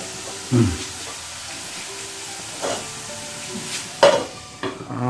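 Sugar melts and caramelizes in a pan while being stirred, making a faint sizzle under a few sharp spoon scrapes and knocks against the pan.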